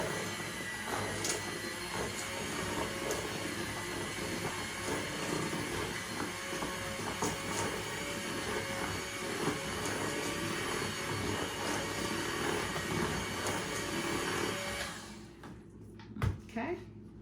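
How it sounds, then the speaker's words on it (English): Electric hand mixer whirring steadily through cooked sweet potatoes for a sweet potato dump cake, a continuous close motor drone that cuts off near the end, followed by a few soft kitchen clunks. "I always mix mine up with a mixer just to get some of the strings out of it"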